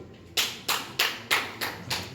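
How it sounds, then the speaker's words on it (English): Several distinct hand claps ring out at a meeting, six sharp claps at a steady, unhurried pace. "I just wonder why the clapping is going on."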